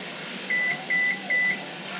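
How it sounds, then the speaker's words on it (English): An oven gives three short, evenly spaced electronic beeps when preheated, against a quiet background hum. "And the oven just beeped, so it's preheated"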